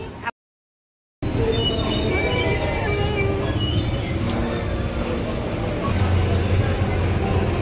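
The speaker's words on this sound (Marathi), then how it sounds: "ट्रेन गाडी झुक झुक झुक" Toy train ride in a shopping mall, with the wheels squealing and rumbling steadily along the track, loud and close, after a brief gap of silence near the start.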